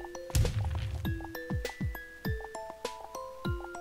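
Cartoonish thunks and whacks from a Plants vs Zombies game as an imp zombie gets crushed, with several punchy impacts, descending tones and bright chimes over a steady game background.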